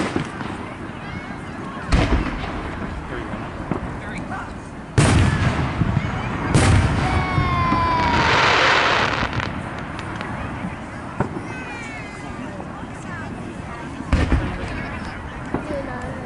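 Fourth of July fireworks at the Peekskill riverfront go off in loud, scattered booms and crackling bursts, some with whistling trails, echoing over the water while people talk nearby.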